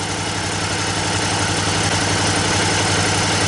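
Suzuki V-Strom motorcycle with a 90-degree V-twin engine idling steadily and loudly up close, a continuous low throbbing rumble with no voices.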